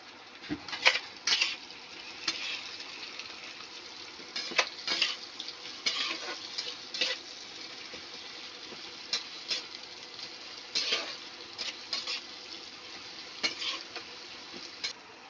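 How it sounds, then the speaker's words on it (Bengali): Sliced onions sizzle in hot oil in a pan for a Bengali chicken kosha, a spoon scraping and stirring in irregular bursts over a steady close frying hiss. "পেঁয়াজটা আমি লাল লাল করে ভেজে নেব।"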